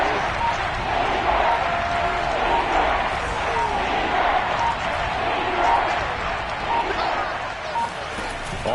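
A football stadium crowd roars steadily during a Texans game as a big third down approaches, a dense, continuous wash of distant cheering heard under a commentator's talk.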